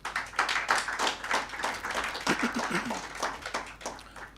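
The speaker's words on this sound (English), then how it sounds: "I think that deserves a hand clap" Audience applause at a bank's annual financial results presentation, a moderate, continuous patter of many hands clapping in a room for several seconds.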